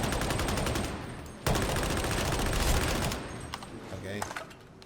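A light autogun fires in Warhammer 40,000: Darktide as a continuous, dense stream of rapid shots. It is loud and sustained, pauses briefly, then resumes and tapers off, with some speech mixed in.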